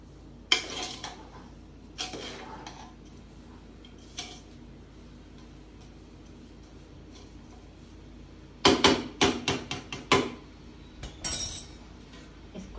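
Sweet rice and sugar being gently stirred together in a cooking pot, heard as sparse metallic clinks and scrapes of a spoon against the pot in a few short bursts, with quiet pauses between them.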